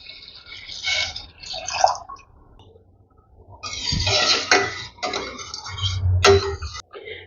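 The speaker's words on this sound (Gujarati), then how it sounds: "કુકરમાં 1 ગ્લાસ પાણી ઉમેરશું" A glass of water is poured into a pressure cooker holding rice sautéed in ghee for kheer. Close splashing bursts come in uneven spurts with short pauses, sloshing and trickling against a quiet kitchen.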